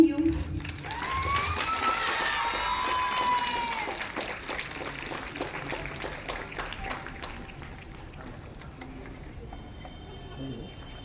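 At a kho-kho final-day gathering, a crowd's applause swells near the start and gradually thins out, with tonal sweeps and background murmur mixed in.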